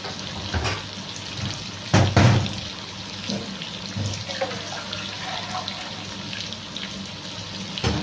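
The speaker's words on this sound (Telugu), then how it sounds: "ఇప్పుడు మనం వాటర్ వేసేసుకుందాము" Water splashes into a hot pan with a brief loud burst, followed by continued bubbling and faint clinks, while cooking an egg rice dish.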